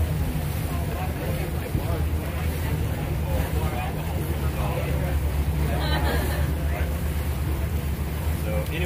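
A boat motor drones steadily beneath wind buffeting and a murmur of people talking, a constant loud wash of engine and water noise, near Crab Island, Destin, Florida.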